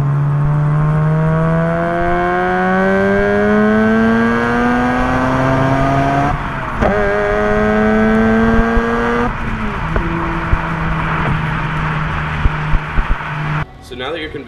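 A Mazda RX8 rotary-engined car accelerating hard, its engine note climbing steadily through several gears with brief drops at each shift, loud and close from inside the car, with some talking under the engine.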